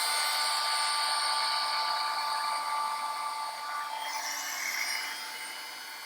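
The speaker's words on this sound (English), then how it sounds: "we're going to take our heating gun and we're going to heat it up real well" A heat gun blows hot air over a 3D paper craft embellishment for card making, a steady broadband rushing hiss that holds loud and even, then eases slightly toward the end, with no talking.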